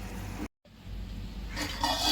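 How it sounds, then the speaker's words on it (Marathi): Water is poured into a pan of sautéed onion and tomato, a rushing, gurgling pour that breaks off briefly after a short start, then resumes and swells louder, with no voices. "आता यामध्ये थोडं पाणी घालून 2 मिनिटं ढाकून ठेवूया।"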